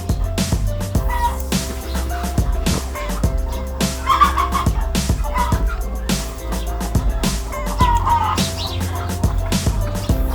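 Chickens crowd a farm pen waiting for feed, a loud, steady chorus of clucking and gobble-like calls with repeated sharp squawks, close by, and a voice occasionally underneath.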